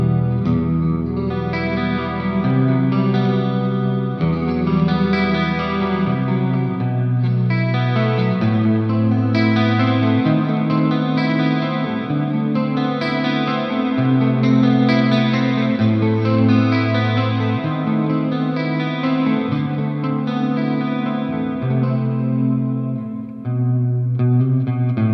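Electric guitar played through Mooer D7 delay and R7 reverb pedals: a slow progression of sustained, washy chords with shimmering repeats and long reverb tails, loud and continuous with no talking.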